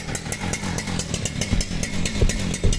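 A modified Husqvarna 3120 XP chainsaw runs nearby, its engine putting out a steady rough buzz with rapid rhythmic clatter that holds through the whole stretch.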